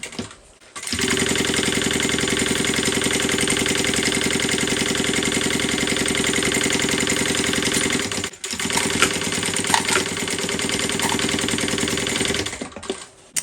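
A sewing machine runs steadily, stitching a seam on a handmade Alicia bag with a close, even motor whir. It pauses briefly partway through, then resumes.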